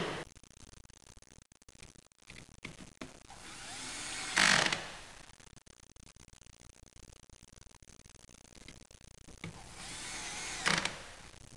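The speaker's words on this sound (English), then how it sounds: "Attach the bracket rail to the mounting bracket by aligning the front screw hole and fasten with two" A power screwdriver fastens screws into a Compaq rack bracket rail, two short whirring bursts some seconds apart amid quiet handling clicks and rustles, fairly close.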